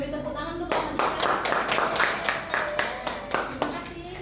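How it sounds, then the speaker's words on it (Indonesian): A classroom gives a round of clapping for a student group after a presentation: a fairly close, brisk burst of several hands clapping that starts suddenly, holds steady for a few seconds and stays mixed with a little room noise. "Beri tepuk tangan untuk kelompok 3."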